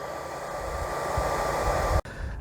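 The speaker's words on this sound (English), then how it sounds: "I'm going to fix that by using the old hair dryer technique just to warm it up" Steady broadband blowing whoosh of a hair dryer with a motor hum, warming a BMW Z3 antenna grommet, continuous and close, cutting off briefly near the end.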